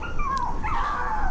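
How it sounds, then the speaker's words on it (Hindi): A dog in a Hindi horror story gives a high, drawn-out whine that slides downward and wavers like a yelping howl over a steady low background rumble. "वो कुत्ता तो कुछ दूर जाकर फिर से भौंकने लगा"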